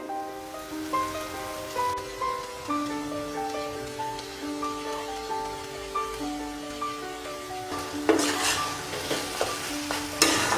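Tomato and onion masala with kasuri methi fries for gobhi bharta, a soft steady sizzle with occasional stirring beneath music, growing louder and crisper near the end.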